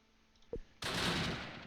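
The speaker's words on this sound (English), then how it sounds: "Keep shooting at that building." In the Close Combat wartime battle game, a short thud is followed by a loud burst of gunfire aimed at a building, sustained and dense before slowly tailing off.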